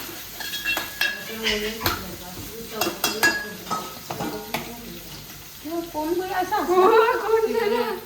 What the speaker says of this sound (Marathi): अद्रक पेस्ट लसूण पेस्ट टाकले